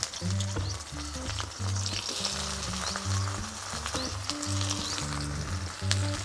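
Onions frying in oil until reddish-brown, for a spinach-and-chicken curry, give a loud, steady sizzle throughout, with a looping musical background underneath.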